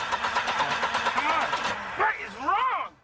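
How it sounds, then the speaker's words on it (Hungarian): A car engine in a movie scene cranks in rapid rhythmic bursts without catching, stopping and starting again, while a voice speaks over it. "Beszállsz a kocsiba, ami nem hajlandó elindulni."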